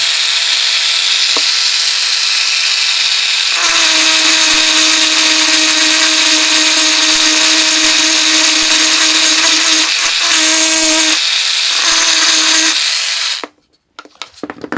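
A Parkside cordless engraver runs against a small gourd, giving a loud, steady high-pitched whine with a hum for about thirteen seconds, rising in pitch partway through and stopping briefly near the end.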